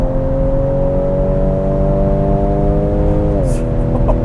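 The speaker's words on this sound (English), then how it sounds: "I'm gonna go around this corner here and on the throttle" A 2021 Ford Edge ST accelerating through a corner on the throttle, a loud in-cabin engine drone holding a steady pitch before it drops near the end.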